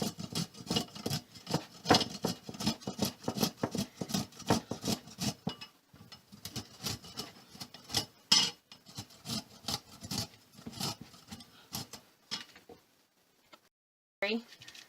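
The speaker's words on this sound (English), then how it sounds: "I usually just use a grater." A vegetable rubbed against a handheld grater while making a hearty chicken soup, giving a rapid run of scraping strokes with short pauses, close and fairly loud, ending in a few brief bumps.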